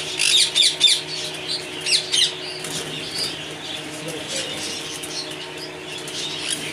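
Sun conures in an aviary at a home bird setup: a run of sharp, loud squawks and shrieks in the first couple of seconds, then scattered calls and wing flutters over a low background hum.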